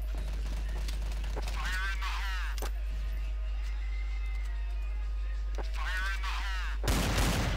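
Gunfire in a multiplayer shooter video game: a few sharp, brief shots cut through ongoing voices, with a louder burst near the end.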